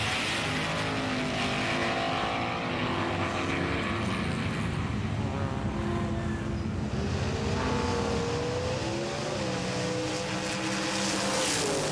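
Racing cars on a track roar loudly and continuously with rising and falling engine tones, a dense mechanical din from start to finish.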